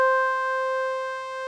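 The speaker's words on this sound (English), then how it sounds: "Saw-Sine pad, used in algorithm 7," FM synth saw-sine pad from algorithm 7, four independent operators with feedback, sounds as one steady sustained chiptune tone, bright and buzzy with a faint wavering, held alone for a moment without talk.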